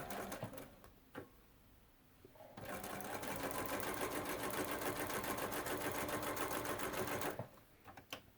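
A sewing machine runs in one continuous burst for about five seconds, a rapid even whir of stitching as it closes a gap in a seam, with a few soft handling clicks before and after.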